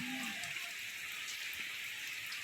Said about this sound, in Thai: ฝนเปียกหมดเลยค่ะ